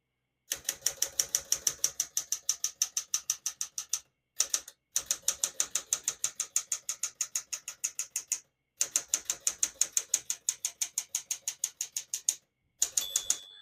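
Steady rapid clacking of 1965 Smith-Corona Sterling portable manual typewriter keys in runs separated by brief pauses, with a short bright margin-bell ding near the end.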